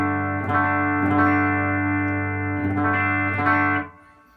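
A Telecaster electric guitar with its tone control turned fully up rings out bright sustained chords, strummed in a few rhythmic accents before the sound cuts off near the end.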